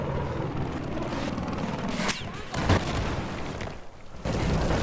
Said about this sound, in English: lots of explosions in Battlefield 4, Tom